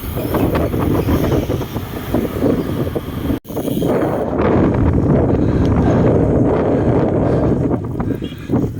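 Strong headwind roaring steadily past a rider on a highway, a loud continuous low rumble of wind buffeting with one brief dropout partway through; no speech.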